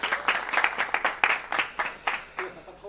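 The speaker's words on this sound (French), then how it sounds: "Vas-y, on applaudit." Light, sparse applause from a small audience at a social selling forum in Toulouse, with separate claps in an uneven rhythm, moderately close.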